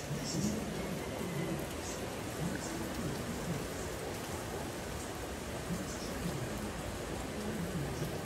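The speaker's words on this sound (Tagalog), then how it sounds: "Maya ito nga sabi ko sa inyo, biglang umulan." Sudden rain falls steadily in Cavite, a dense, even hiss of drops on surfaces that stays constant throughout, with faint indistinct voices underneath.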